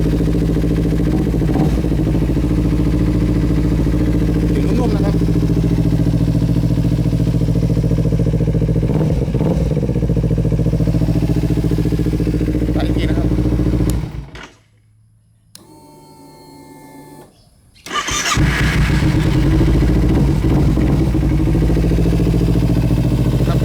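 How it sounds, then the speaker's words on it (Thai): A 2013 Kawasaki Z250 motorcycle fitted with an aftermarket exhaust runs with a steady, loud engine drone close by, cuts out briefly for a couple of seconds, then fires back up and settles into idle again. "คันนี้นะครับผมอ่าลองสตาร์ตตัวนะครั บ"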